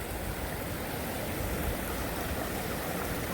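A small waterfall in a clear stream along the Appalachian Trail near Birch Run shelter makes a steady, close, full rush of splashing water with no pauses.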